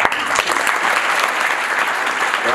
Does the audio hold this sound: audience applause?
yes